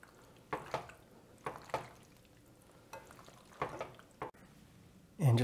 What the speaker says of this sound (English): Going to add that on and give it another stir.